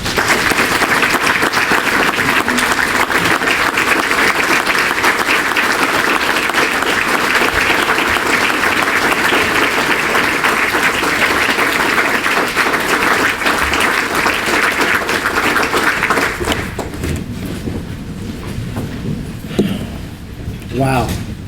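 Loud, sustained audience applause fills a Hall of Fame awards banquet hall, dense clapping holding steady for about sixteen seconds before thinning out, with voices faintly mixed in.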